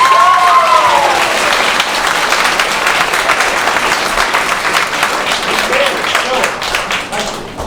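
Audience applause at a swing dance showcase, steady and fairly loud, with a voice briefly heard at the start and more speech faintly mixed in as the clapping tapers off toward the end.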